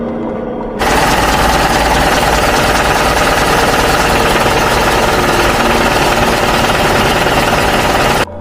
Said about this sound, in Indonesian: terdengar suara mesin yang tiba-tiba menyala